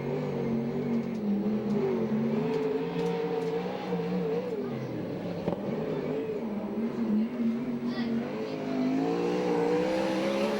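A USAC/CRA sprint car engine drones through a race lap at Alger, Washington, a steady moderately distant roar with rising and falling pitch as the car circles the track.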